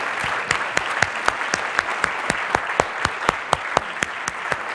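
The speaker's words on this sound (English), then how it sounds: "I think they all deserve a round of applause again" An audience applauds at a speaking event, a fairly thin round of clapping in which individual sharp claps stand out in an uneven rhythm over a softer background patter.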